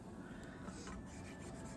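A spatula scraping the bottom of a quick cooker full of seared brats, a steady, faint grinding rasp that runs continuously for a couple of seconds without a break and without speech.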